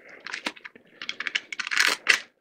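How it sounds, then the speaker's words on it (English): A disposable blade cutting through 40 grit sandpaper in a woodshop, heard as a close, scratchy run of rapid rasping ticks and crackles in short uneven bursts, with no talking. "because I'm cutting sandpaper"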